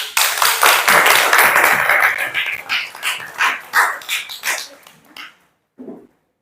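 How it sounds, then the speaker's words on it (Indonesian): Rhythmic group clapping in a classroom lesson, bursts of claps that pulse in rough unison and then taper off, ending in silence with a faint short sound. "Kita tepuk tangan dulu."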